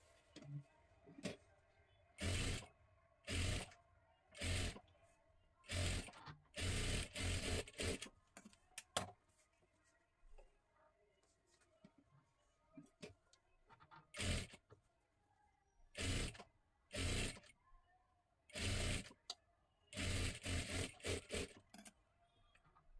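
Domestic sewing machine stitching the sleeve onto a size 38 princess blouse, running in repeated short bursts with pauses between them, close and fairly quiet, with no talking.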